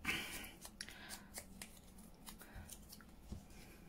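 Small scissors snip paper craft pieces in a series of quiet, crisp cuts at an uneven rhythm, close by in a quiet room with faint background rustling.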